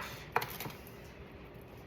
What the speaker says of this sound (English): I'm gonna finish chopping this cauliflower and the last head of my broccoli